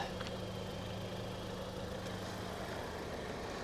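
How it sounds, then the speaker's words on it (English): A car engine idling quietly at a salvage auction walk-around, a steady low hum that holds at an even level throughout, heard close and with no talking. "Engine sounds really nice. It's very quiet."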